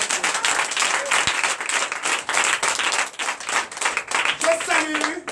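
Worshippers at a Sunday church service in Comè, Benin, clap enthusiastically, a dense rhythmic burst of hands with some voices mixed in, steady and fairly loud throughout.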